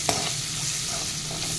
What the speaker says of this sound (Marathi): आता कांदा छान परतून घेऊयात